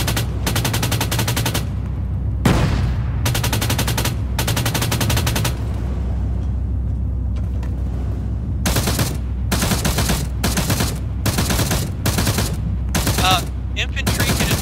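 Sustained automatic gunfire from a war video game, long machine-gun bursts repeating with short gaps over a steady low rumble, loud and close throughout.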